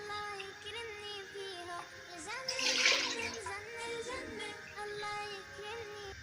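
Water is poured from a cup onto sugar in a pan to make syrup for gram-flour barfi, a brief splashing pour rising in the middle while someone talks over it.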